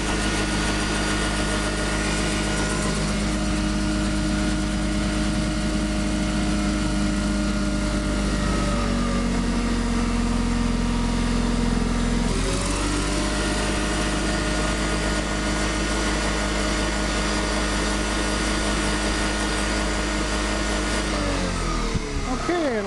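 Modified DC motor turns the crankshaft of a 10 kW generator at 3,000 RPM under a 600-watt load, giving a loud, steady, continuous mechanical hum and whine whose pitch shifts slightly partway through.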